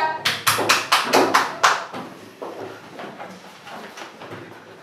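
Children in a classroom clap in a quick burst of about seven sharp, loud claps, followed by fainter scattered taps and thumps as the room settles.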